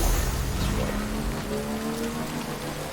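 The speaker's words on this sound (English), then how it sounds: "having the face open while it's raining is probably a gift to have your face aged by" Timefall rain in the Death Stranding video game, a steady, close downpour hissing across the whole clip with a low rumble underneath and no voices.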